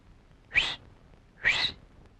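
A man whistles in a Tamil film comedy scene, giving two short, bright, upward-sliding whistles about a second apart against a quiet background.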